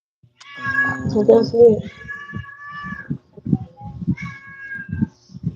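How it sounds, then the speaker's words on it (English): A house cat meows several times in drawn-out, wavering calls close to the microphone, interleaved with a person talking casually in a home. "did the cat just get home?"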